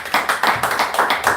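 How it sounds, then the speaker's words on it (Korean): A church congregation claps together in praise to God, a fast, steady rhythm of loud, close handclaps at roughly five or six beats a second, with no voices over it. "오늘도 우리에게 생명을 주신 우리 하나님께 영광의 박수 드리겠습니다."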